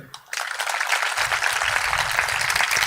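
A congregation claps together at a church gathering, a dense, loud, continuous roar of many hands that starts suddenly after a short pause and keeps going without letup.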